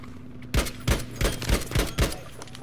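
Battlefield 5 gunfire on the Hammada Breakthrough map, six punchy shots fired at snipers in a loose rhythm about a third of a second apart, loud and close with no talking.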